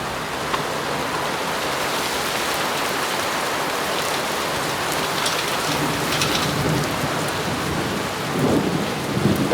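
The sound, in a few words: thunderstorm with heavy rain and thunder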